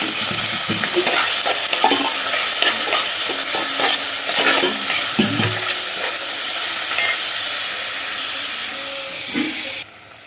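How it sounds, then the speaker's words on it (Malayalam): Onion sautéing in coconut oil with salt and turmeric in a home kitchen pan, a loud, continuous sizzle and hiss close up, with repeated scraping stir strokes before cutting off abruptly at the end. "ഉപ്പും മഞ്ഞൾപ്പൊടിയും കൂടി ഇട്ടു വഴറ്റി കേട്ടോ"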